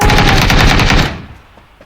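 A rapid burst of loud automatic gunfire in the video game Rondo rattles for about a second, then cuts off and fades into a quiet tail.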